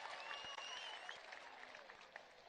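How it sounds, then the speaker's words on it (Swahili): Audience applause breaks out at a heated political gathering as a speaker is called up, steady dense clapping from a crowd sustained throughout, moderately distant and fairly even in level. "Hebu tumpigie makofi"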